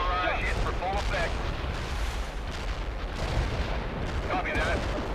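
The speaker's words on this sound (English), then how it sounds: "Artillery barrage hit for full effect." Artillery barrage explosions in World in Conflict, a series of heavy rumbling blasts and booms rolling continuously, with radio chatter voices cutting in over the bombardment.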